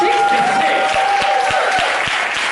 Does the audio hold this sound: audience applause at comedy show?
yes